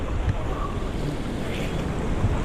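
Sea waves surging at the entrance of a sea cave at high tide near El Nido, Palawan, a steady rushing wash of water with wind buffeting the microphone throughout.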